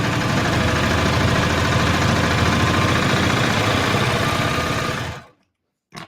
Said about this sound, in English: I'm just going to sew along the denim.